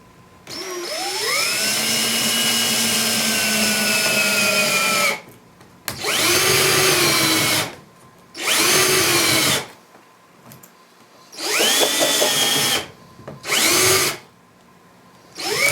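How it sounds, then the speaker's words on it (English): A power drill countersinks screw holes in a car iPad stand mount, whining up in about six separate bursts: one long run of several seconds, then shorter spurts with silent pauses between. Loud and close, with no talking. "I want to countersink those."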